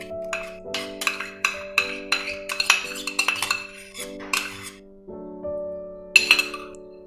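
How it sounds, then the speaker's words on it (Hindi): A metal spoon clinks and scrapes repeatedly against a pan while matar paneer gravy with fresh cream is stirred, leaving short ringing metallic tones in an uneven rhythm with no talking. "लगातार चलाते हुए इसको मिक्स करेंगे।"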